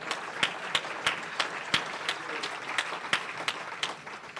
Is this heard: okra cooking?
no